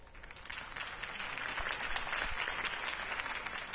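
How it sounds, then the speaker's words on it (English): Crowd applause and cheering from a political rally scene in Batman: The Telltale Series game, a steady dense wash of clapping that lasts throughout, fairly faint. "If only Mr. Wayne, my campaign's largest backer, could have heard that applause"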